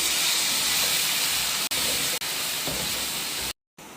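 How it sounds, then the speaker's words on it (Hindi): Chopped onions sizzle while frying in a pan for dhaba-style daal mash, a steady broad hiss with a brief drop near the end. "अपना प्याज जो चॉप करके रखा था वो ऐड कर देंगे और इसकी हम थोड़ी सी भून करेंगे"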